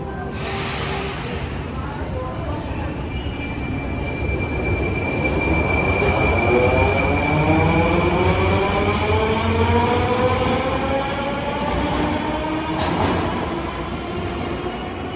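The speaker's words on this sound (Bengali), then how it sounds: "একটা ট্রেন গেছে এখন পরবর্তী ট্রেন আসবে" A metro train rumbles through a deep underground station in Moscow, 84 metres below ground, wheels squealing in rising and falling tones, steady and loud throughout with faint voices in the background.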